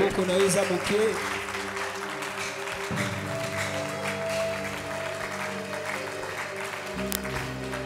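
A church congregation applauds and cheers for the Lord during a worship service. Scattered clapping and voices fill a reverberant hall over sustained keyboard tones, with talk mixed in.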